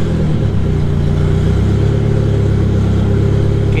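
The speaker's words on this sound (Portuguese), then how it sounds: "vou ligar o carro." A car engine fitted with a Universal Turbo GT2871 turbo runs at a steady idle, loud and close with a constant droning hum and a slight shift in tone early on.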